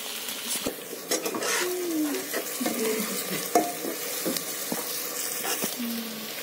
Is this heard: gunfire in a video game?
no